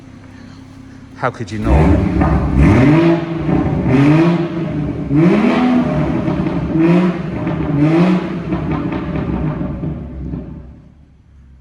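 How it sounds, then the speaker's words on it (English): A BMW 440i Gran Coupe with an M Performance exhaust, warmed up, is revved several times in quick succession, each rise and fall rising and dropping loudly up close, with a brief remark spoken over it. "I'm just going to give it one more rev because it's warmed up a bit now"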